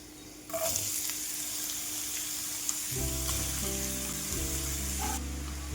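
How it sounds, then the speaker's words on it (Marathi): Chopped vegetables go into hot oil with fried ginger and garlic for homemade momos, bursting into a loud steady sizzle that starts sharply and keeps crackling close up, with a stir or two partway through. "आता या भाज्या व्यवस्थित अशा आपल्याला याच्यामध्ये फ्राय करून घ्यायच्या।"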